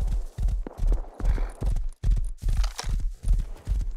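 A horse galloping in the video game Rust, steady rhythmic hoofbeats thudding close and loud with no talk over them.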